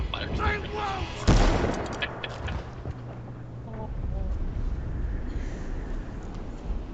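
Combat in the game Mass Effect: one sharp, heavy blast stands out among scattered gunfire, with game dialogue spoken around it and rumbling ambience fading out after it.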